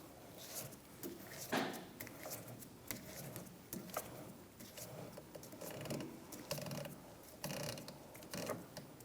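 Toyota RAV4 from the 2013–2018 years being lowered on a lift or jack in a workshop, a steady mechanical whir and clatter of gears and pulleys running the whole time, moderately loud with no talking.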